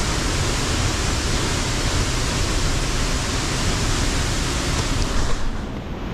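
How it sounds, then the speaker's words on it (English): A waterfall in Slovenia roars continuously, a dense, steady rush of falling water heard up close for several seconds, with no voices. "This is one of the youngest waterfalls in Slovenia, created during the last ice age"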